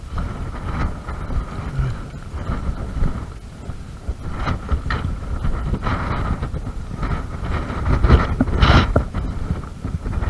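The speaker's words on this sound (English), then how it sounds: "A little windy, had to take my hat off, hold on to it" Strong wind blows outdoors, a loud, rumbling buffet hitting close to the microphone with gusts rising and falling, swelling toward the end.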